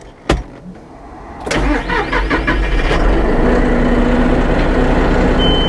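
A John Deere 5065E tractor engine cranks with a click and a starter whir, then catches and settles into a loud, steady rumbling idle.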